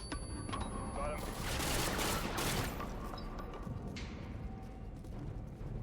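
Bursts of gunfire in Call of Duty: Modern Warfare 2 come as a loud cluster of rapid shots early on, then fade into scattered, duller reports, with voices talking over the action.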